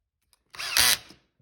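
A cordless drill whines in a short, steady burst at a high torque setting, its motor pitch climbing and holding, then winding down and stopping, loud and close with no talking.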